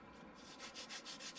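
Light hand sanding of balsa glider fuselage parts for a Micro Sinbad radio-control glider, a soft rhythmic rubbing in about five quick, even strokes, close and quiet with no talk.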